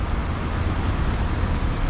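Slow-moving road traffic heading toward Honiara before Easter produces a steady, moderately loud rush of engines and tyres, a continuous broadband hum without distinct events or speech.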